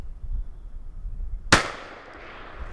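Shotgun blast fired at a wild turkey during a snowy spring hunt, a single sharp crack midway through quiet outdoor ambience, with a brief fading tail.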